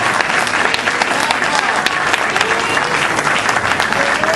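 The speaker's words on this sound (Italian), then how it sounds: "Gli facciamo un bel applauso, Monica Sogos." Loud, sustained applause from a crowd at a charity concert fills the space, with dense clapping continuing steadily throughout.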